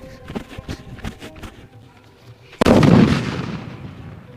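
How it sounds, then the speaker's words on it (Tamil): A single Vinayagar country firecracker goes off in a village, one loud, sharp blast with a long decaying rumble, after a few softer crackling pops. "ஃபர்ஸ்ட் மங்களகரமா விநாயகர் வெடியிலேருந்து ஸ்டார்ட் பண்ணுவாங்க"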